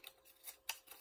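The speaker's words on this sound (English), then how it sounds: "Get your piece of scissors. Cut a thin line." Scissors snipping a thin line in paper, heard as three or four quick, crisp cuts spaced irregularly across a second, close and quiet.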